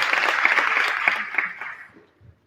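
Applause from a workshop audience after a business talk fills the first two seconds as dense, steady clapping, then thins and fades out near the end.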